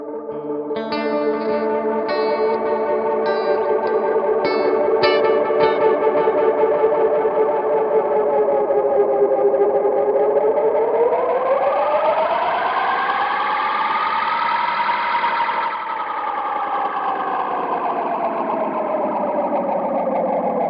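Electric guitar run through a Universal Audio UAFX delay pedal with high feedback and multiple heads: repeating notes smear into a sustained, swelling wash that bends upward in pitch and slowly sinks again, loud and continuous without talk.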